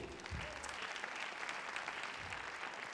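A French audience applauds the third nominee in a category at an awards ceremony, with continuous, even applause filling the whole stretch at moderate loudness.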